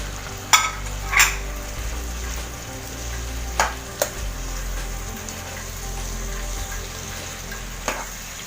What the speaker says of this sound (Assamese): গোটেইখিনি আকৌ ফ্ৰাই কৰি থাকিম যাতে মাংসৰ মছলাখিনি আলুত সোমাই যায়।